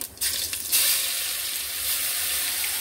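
Cumin seeds sizzling and crackling in hot oil for an Agri-style sprouted moth bean curry, a steady close frying hiss with a brief burst of spattering at the start.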